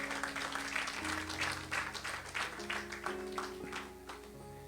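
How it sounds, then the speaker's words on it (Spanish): Church congregation applauding, a sustained wash of clapping from many hands at moderate volume, with organ or keyboard chords held underneath throughout. "Denle un aplauso al Señor."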